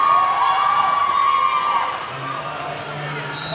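A roller derby crowd at an Emerald City versus Junction City bout cheers and shouts loudly and steadily, the roar easing slightly partway through.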